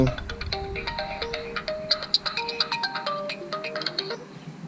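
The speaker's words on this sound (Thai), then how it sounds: "ใครโทรมาครับ เนี่ยโทรมาทำไม" A mobile phone rings with an incoming call, a bright melodic ringtone with quick repeating notes, fairly loud and close over low background rumble, with no one speaking.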